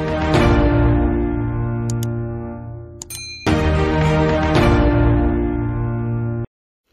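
A bright notification bell chime rings out, sustained and ringing with a metallic tone, followed by a second strike after a brief gap and a tiny high tinkle, then cutting off abruptly.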